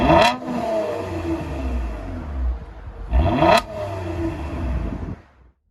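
Two sharp revs from a 2020 Toyota Camry V6 TRD Edition with dual exhaust and resonator delete, each a quick rising blip falling back into a steady, throaty idle rumble, recorded close with no talk.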